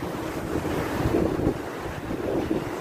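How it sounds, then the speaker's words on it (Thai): Sea waves surge and wash onto a beach shore in a steady, loud roar, with two swelling breaks and gusts of wind buffeting the microphone; no voices. "ดูขึ้นทะเลซัดฝั่ง"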